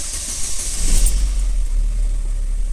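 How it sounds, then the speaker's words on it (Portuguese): A 2009 Chevrolet Astra's engine starting up in a workshop after a knocking-noise repair, then settling into a steady, low running hum close by. "vou dar partida agora"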